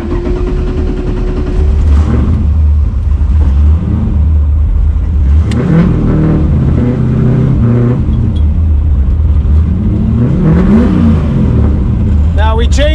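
An 800-horsepower turbocharged Foxbody Mustang driven on the street, its engine droning loud and steady with repeated revving surges and gear changes, up close throughout.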